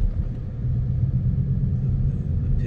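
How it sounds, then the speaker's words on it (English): Ford Mustang GT on its stock exhaust, a steady deep low rumble held evenly throughout, close and fairly loud with no talking. "I can't believe it's stock exhaust and it sounds that great"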